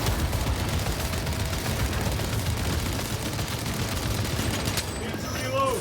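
Rifle gunfire in Warhammer 40K: Space Marine 2 rattles without pause in dense, loud bursts mixed with explosions and battle noise, and it eases off briefly near the end.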